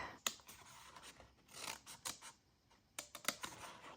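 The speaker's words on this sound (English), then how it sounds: "the easiest way to cut these kind of shapes is to just poke a hole in the middle and then to just cut up into your shape" Scissors snipping out shapes from paper in short close bursts, with quiet crisp cuts and rustling between them and no voices.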